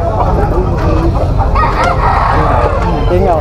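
Roosters crow and hens cluck amid a busy Malabon pet market, the calls loud and close over a dense crowd murmur with people talking.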